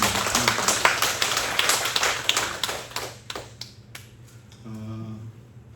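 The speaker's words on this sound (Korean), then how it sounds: "박수 한번 하겠습니다." A church congregation at a Sunday service applauds with dense, steady clapping that thins and fades out after a few seconds, followed by a soft tonal sound.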